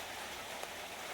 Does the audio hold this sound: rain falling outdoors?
yes